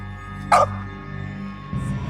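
One sharp, close dog bark rings out over a low ambient hum, followed by a short rumble.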